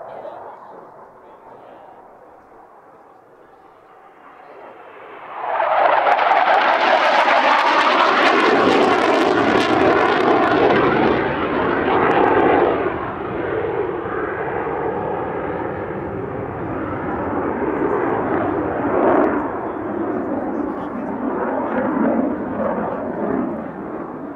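A Saab Draken jet fighter flying at the Midlands Air Festival 2024 builds to a loud, roaring engine rush that holds steady for many seconds and then slowly fades while staying strong, with faint crowd sound under it.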